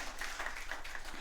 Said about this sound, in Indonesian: Tepuk tangan bagi Yesus Tuhan kita